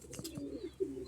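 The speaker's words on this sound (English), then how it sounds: "Don't mind Bronwyn cooing in my shoulder" A pet pigeon coos softly and very close, perched on a shoulder, giving a few low throaty murmurs in a quiet room with no talk.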